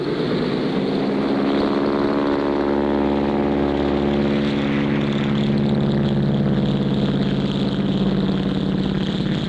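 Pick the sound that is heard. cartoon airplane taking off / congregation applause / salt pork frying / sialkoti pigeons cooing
cartoon airplane taking off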